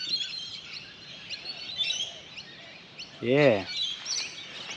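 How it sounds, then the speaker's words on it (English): Birds calling on a still, windless day in Australia: a faint chorus of high chirps and tweets throughout, with a brief spoken word in the middle and a short nearby call near the end. "You hear the sound of the birds."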